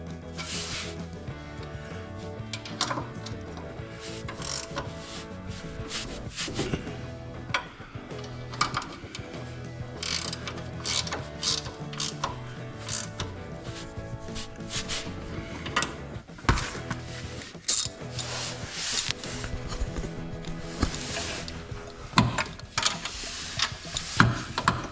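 A ratchet snugs up bolts on a Helios Design front end loader being assembled on a John Deere 425/445/455 tractor. Quick runs of close, dry clicks repeat throughout, with no talking.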